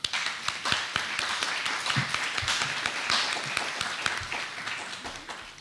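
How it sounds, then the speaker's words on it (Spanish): Audience at an academic colloquium applauding a speaker being introduced, a close, moderately loud round of individual claps with distinct sharp hits, no talking over it. "Un aplauso, por favor."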